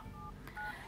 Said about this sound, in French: Il appelle, ça sonne.